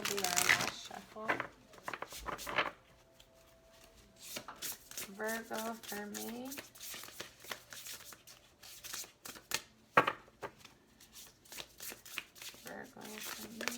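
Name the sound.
shuffling oracle cards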